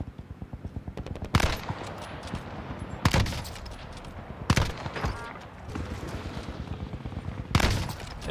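Gunfire in the video game Call of Duty Vanguard: a rapid stream of automatic shots is broken by four loud, sharp sniper rifle blasts spaced a second or two apart.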